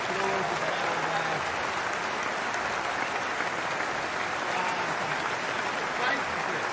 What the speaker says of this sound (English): We'll give him a little round of applause as well.